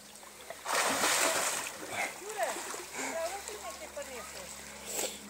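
Something lands in water with a loud splash, then the water sloshes and churns for a few seconds afterward. Voices can be heard faintly in the background.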